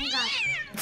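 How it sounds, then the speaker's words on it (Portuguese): A cat in the Roblox video game gives one close, clear meow that bends upward and then falls away, lasting under a second. "É, um gato."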